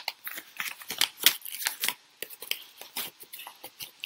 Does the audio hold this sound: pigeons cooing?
no